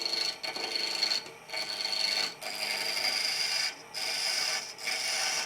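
A 1/4 inch bowl gouge cutting a small wooden snowman ornament spinning on a lathe, a close steady hiss and rasp broken by several brief pauses between passes, with no voices.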